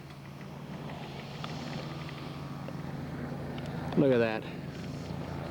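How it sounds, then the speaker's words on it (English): A scale model Corsair aircraft, gear and tail hook down, makes a touch and go at a scale aircraft show, its engine a steady drone under wind noise, rising into a brief louder pass, while someone talks over it. "Earl's going to do a touch and go for us"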